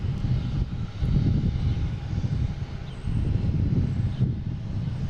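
A fully loaded JetBlue jet airliner roars steadily as it takes off on runway 22 left at Boston Logan, a broad, sustained rumble heard from a distance.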